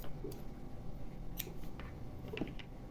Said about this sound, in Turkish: yeteri kadar ip bırakıp kesiyorum.